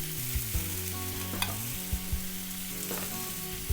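Beef picanha frying in a pan, a steady sizzle running throughout with occasional stirring clicks and a low hum beneath, close and moderately loud.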